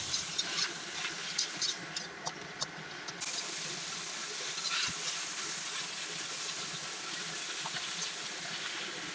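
Chili, garlic and vegetables sauté in a pan, giving a continuous steamy hiss close by, with a few quick clicks of a utensil early on before the sizzle settles into an even rush.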